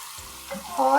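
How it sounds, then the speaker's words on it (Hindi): Turnips frying with ground chili in a pan, a soft steady sizzle that swells louder toward the end as the pieces are stirred, close and alone without talk. "थोड़ा सा इनको हम ऐसे भूनेंगे।"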